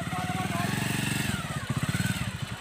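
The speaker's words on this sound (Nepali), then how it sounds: "बाइक त आउँछ" A motorcycle engine passing close on a hill ride with friends, a loud pulsing thrum that wavers and swells, with voices talking over it.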